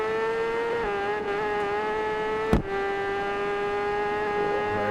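A supersport motorcycle engine in the TT Isle of Man road-racing game holds a steady high-pitched whine at sustained revs, loud and continuous, with one sharp knock midway.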